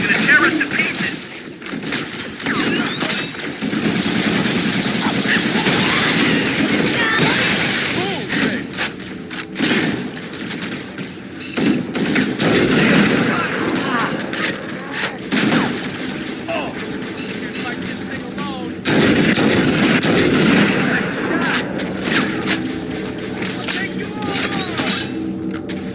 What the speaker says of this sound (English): Those stationary guns are gonna tear us to pieces!